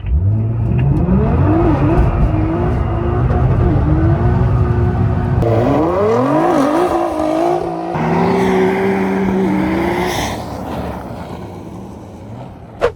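A Nissan GTR, Audi RS5 and BMW M3 launch together on ice, engines roaring loudly as they rev and climb through gear changes, under strong wind noise.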